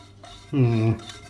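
A large metal pan with a wonky handle knocks and scrapes, with a short ringing clang in the middle of quieter handling noise.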